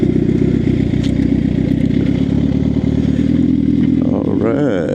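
A Suzuki GSX-R 750 motorcycle engine roars loudly and steadily up close, with a rising rev near the end.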